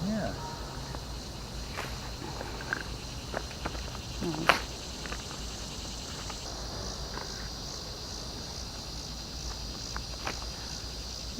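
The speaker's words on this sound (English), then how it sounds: "Didn't notice how loud the cicadas were until I was editing video yesterday" Cicadas drone loudly and continuously in an outdoor yard, a steady high buzz running through the whole stretch, with scattered footsteps and light knocks close by.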